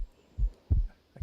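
A deep heartbeat pounds in the game Minecraft, two heavy low thumps spaced about a third of a second apart and then the start of a third, close and muffled against near silence.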